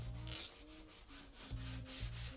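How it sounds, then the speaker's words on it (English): Rhythmic back-and-forth sanding strokes on a car bumper in a garage in Nairobi, a gritty rubbing repeated about five times, close and steady with a low hum beneath; no talking. "They're kind of sanding it down to make the surface as"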